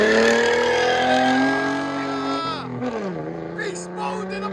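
A 2005 Ford Mustang 4.0L V6 with straight-pipe dual exhaust pulls away, loud and close, its raspy tone rising then dropping as it moves off, with a brief voice underneath.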